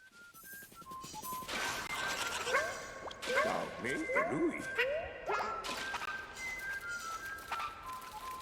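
A hermit crab character in a Yoshi video game whistles in a series of short rising and gliding tones, repeated several times over game music and sound effects, while a person talks over it.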